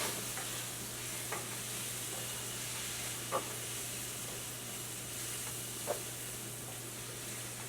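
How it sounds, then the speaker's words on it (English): Tomato paste and vinegar for caponata cook in a pan with a soft, steady sizzle and hiss, broken by a few faint stirring clicks, under a low steady hum. "we'll just let the tomato paste cook down and the vinegar kind of cook off"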